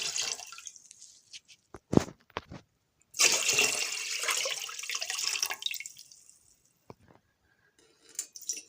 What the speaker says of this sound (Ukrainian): Сюди додаємо 2 літра холодної води.